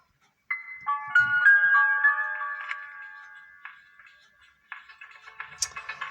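A synthetic phone ringtone in a mobile game plays a bright electronic melody in repeated bursts, fairly clear, with a short gap before it starts again.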